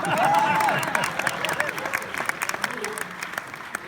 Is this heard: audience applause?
yes